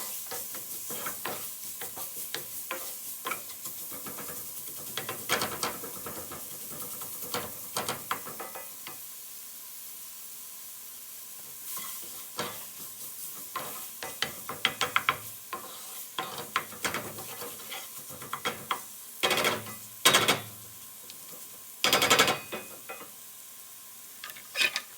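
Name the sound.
onions frying and being stirred in blonde roux with bacon bits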